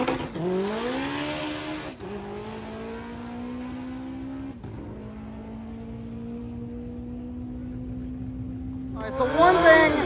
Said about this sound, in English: we're going to see the Civic make another pass